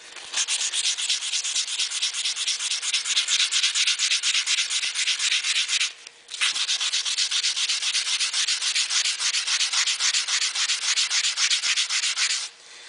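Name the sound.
sanding stainless steel trim with 240 grit sandpaper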